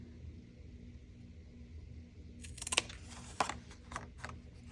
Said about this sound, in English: If you guys haven't tried these little scissors,